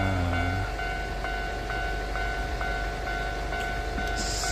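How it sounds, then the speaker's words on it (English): Trains pass a railway crossing on the Keio Inokashira Line in Tokyo, between Meidaimae and Kichijoji. A steady, close rumble of wheels and cars runs under the regular repeating ding of the crossing bell. "now there's 2 more trains we have to wait for, 1 in each direction"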